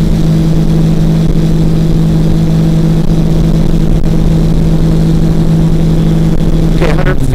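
A trike ultralight aircraft engine drones loud and steady during the takeoff run, a constant close-up roar with a strong low hum and wind buffeting, shifting slightly near the end.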